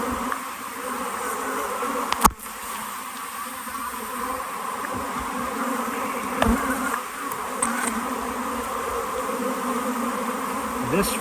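Honey bees swarm and buzz around an opened hive frame outdoors while nucs are being combined, a steady dense drone with a single sharp knock partway through.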